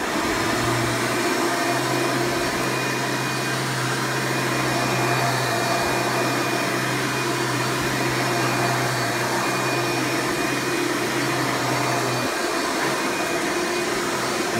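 A Hoover Preferred Elite U5095-930 upright vacuum cleaner runs with a loud, steady motor drone and airy whine, unbroken throughout with a low hum that drops out near the end.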